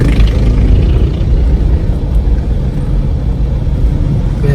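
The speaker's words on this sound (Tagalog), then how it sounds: "Kaya dito pinadadaan yung mga sasakyan." Cars and other vehicles roll along a road between Hagonoy and Calumpit in Bulacan, a loud, unbroken low rumble of engines and tyres close by, with no voices.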